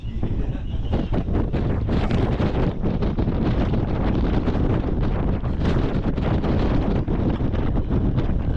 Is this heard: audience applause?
no